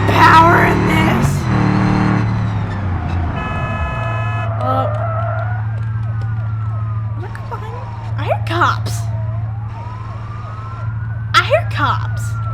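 A police siren in the BeamNG.drive driving game, wailing and sweeping in pitch over a steady engine drone, with someone talking over it.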